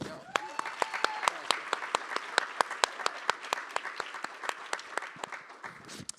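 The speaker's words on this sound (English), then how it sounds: "big round of applause" Crowd applause at a venture-capital stage talk about Pear VC, fairly close and steady, with sharp individual claps standing out above the dense clapping for the whole stretch.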